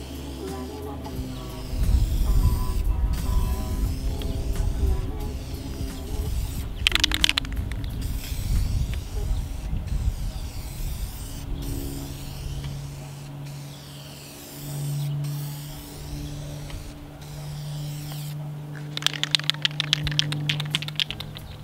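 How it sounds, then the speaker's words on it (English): Short bursts of spray paint hiss from a can onto car tail lights, loudest near the start and again near the end, over faint background sounds. "I'm going to show you guys spraying it."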